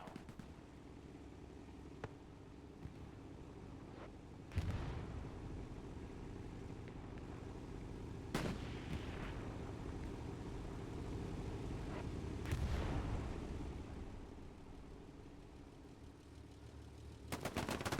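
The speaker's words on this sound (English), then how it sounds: "Gun battles." Video game gun battle in a competitive match: sporadic loud shots and short bursts cut through a steady low rumble of combat, spaced several seconds apart.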